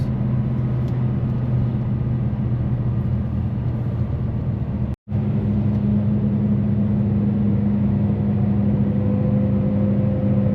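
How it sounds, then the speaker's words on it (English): A truck slowing on its retarders and foot brakes while passing through a town on the run from Christchurch to Edendale, a steady loud drone with a deep engine hum and a rising whine, continuous for about ten seconds. "now I have to use my retarders plus the foot brakes."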